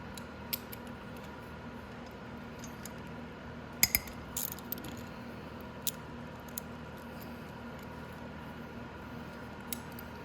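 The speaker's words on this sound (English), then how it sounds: "We might as well take the 8mm bolts off first." A ratchet wrench loosens 8mm head bolts on a 250cc Venom X22R Max motorcycle during valve adjustment: a few sharp, scattered clicks and a short ratcheting burst over a quiet background.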